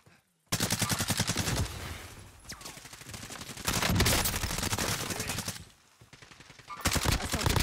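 Rapid automatic gunfire from a first-person shooter game in a trios match, loud and sustained in long rattling bursts with brief pauses, overlapping bursts from several weapons.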